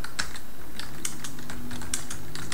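Someone types on a computer keyboard, producing a quick, uneven run of close clicking keystrokes with no talking.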